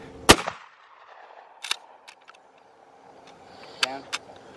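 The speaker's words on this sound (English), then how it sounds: "I'm actually gonna shoot it from the hip" A single 12 gauge shotgun blast fired from the hip, loud and sharp near the start, followed by quieter clicks and handling noises with faint voices in the background.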